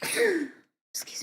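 A single person's sneeze, close and loud, followed after a short pause by a brief spoken apology.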